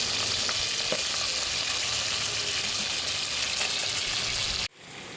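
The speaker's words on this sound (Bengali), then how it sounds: "আর বাকি মাছগুলো ভাজতে বাকি আছে, সেগুলো তেলের মধ্যে আবারও দিয়ে দিচ্ছি।" Pabda fish sizzle steadily in hot oil in a pan for a curry, a dense, even crackle that stays loud and close, then cuts off abruptly near the end, leaving quieter room noise.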